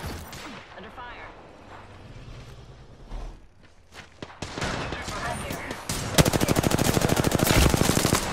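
Video game gunfire, with scattered shots early, then a loud sustained automatic burst of rapid, evenly spaced rounds near the end, while a voice talks over the first part.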